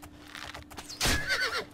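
A horse neighs loudly in the video game Oblivion, a rising whinny standing out clearly over faint background game sounds, with no talking.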